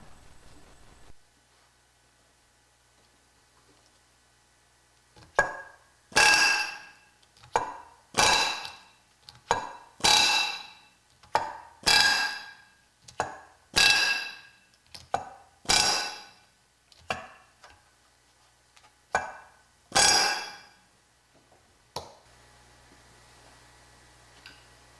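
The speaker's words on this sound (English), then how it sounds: "using our rivet gun with the special back rivet set, we can go and then rivet each of the shop heads of the rivet" Pneumatic rivet gun with a back rivet set hammering shop heads on an aluminium rudder skin for a Vans RV: about a dozen loud, short rattling bursts in a steady rhythm, close and alone.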